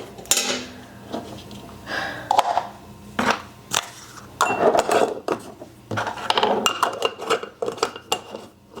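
Containers and lids clatter and clink during household chores, with repeated scattered knocks and rattles of plastic or metal pieces being set down and fitted together, close and fairly loud, with no talking.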